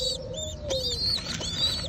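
Young Jacobin pigeon squabs make soft cooing and thin, high squeaky calls close by during hand-feeding, over a low background hum with no speech.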